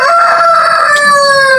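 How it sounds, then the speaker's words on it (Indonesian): A rooster crows loudly and close by, a single long, harmonically rich call held for over a second and a half with no talk over it. "Bising suara ayam."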